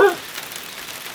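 Rain falling outdoors on a rural farm in Colombia, a soft steady patter that runs continuously after a brief louder sound at the start, with no talk.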